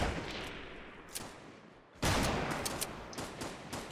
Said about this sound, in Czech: Někdo střílí ještě jiný.